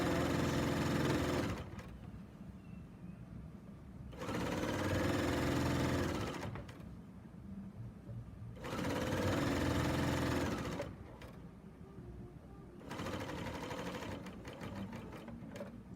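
A serger attaches binding to a quilt in four loud, even bursts of fast whirring stitching, each about two seconds long. Quieter pauses with faint handling noise separate the bursts, and no voice is heard.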